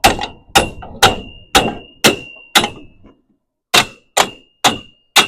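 Pieces of scrap metal being loaded onto a trailer give loud, ringing clangs with a metallic ring, six in quick succession, a short pause, then four more.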